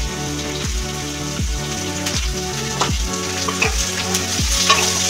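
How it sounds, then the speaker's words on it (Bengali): Potatoes frying in a pan for chira pulao, stirred hard: loud close sizzling with rhythmic scraping strokes roughly every second, like rain on a surface. "একটু আলুটা আগে নাড়াচাড়া করে নেব"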